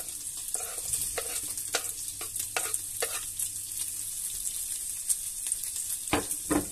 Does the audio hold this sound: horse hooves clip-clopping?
no